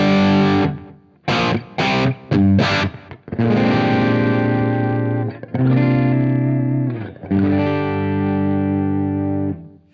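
Electric guitar through an amp and LPD Pedals EIGHTY7 Deluxe with the presence switch off, a darker, less bright tone: a few short choppy strums, then long sustained distorted chords ringing out, loud and up close.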